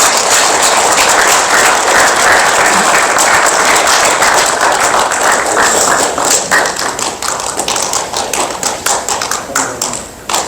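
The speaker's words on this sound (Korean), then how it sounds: "귀한 말씀 해주신 양경환 교수님께 다시 한번 뜨거운 박수 부탁드립니다" Warm audience applause at a Korean award ceremony, loud sustained clapping from a large crowd that holds steady, then begins to taper off toward the end.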